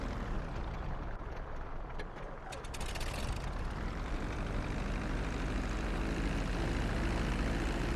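A plane's engines drone steadily in Grand Theft Auto V as it comes down onto the runway, a broad continuous roar that swells and grows louder and fuller partway through.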